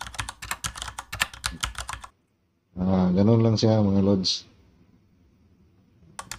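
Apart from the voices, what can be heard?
typewriter typing sound effect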